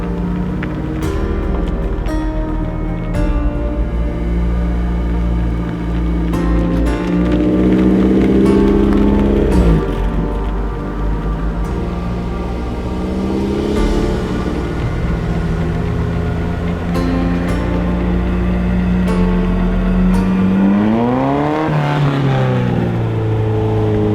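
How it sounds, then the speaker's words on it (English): Engine of a cheap, worn-out Formula 1 car with no working brakes, droning loud and steady with harmonic whine that rises and falls as the revs change, climbing sharply near the end. "We're driving an F1 car."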